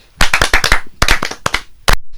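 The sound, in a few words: audience clapping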